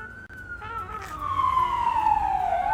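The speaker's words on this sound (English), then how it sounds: "I wish I were in that ambulance" An ambulance siren wails past in a video game, a single rising-and-falling tone that sweeps downward as it moves by, moderately loud over a low background rumble.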